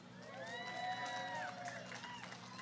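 An audience breaks into cheering, a swell of whoops and rising, whistle-like voices lasting a couple of seconds before tapering off.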